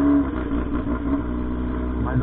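A Honda Hornet motorcycle with a modified, non-original exhaust idles nearby, a steady low throbbing rumble that continues while a person talks over it.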